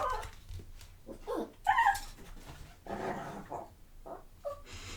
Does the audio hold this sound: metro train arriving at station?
no